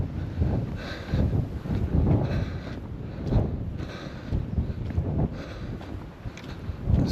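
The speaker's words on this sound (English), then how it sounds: "the wind seems to have got stronger as the days progressed" Strong gusty wind on a coastal cliff walk at Bempton Cliffs in the Yorkshire Wolds, roaring and buffeting the microphone in uneven surges with no talk.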